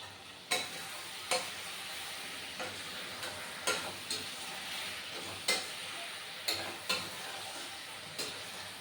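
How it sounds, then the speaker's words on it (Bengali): Spice masala being stirred and sautéed in a pan, with a steady frying sizzle broken by sharp, regular scrapes of a utensil against the pan about once a second, close and clear with no talk. "তোমরা যখন মশলাটা কষাবে সব কিছু একসাথে দিয়েই মেখে কষাবে।"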